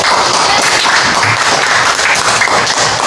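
Secondary school students in a seventh-grade classroom applaud together in a loud, dense wash of clapping that holds steady and close throughout, with no talk.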